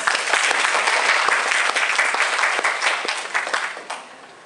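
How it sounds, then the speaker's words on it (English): A room full of people at a speech evaluation session applauding steadily and fairly loudly for a few seconds before the clapping tapers off. "Everyone, please give him a round of applause."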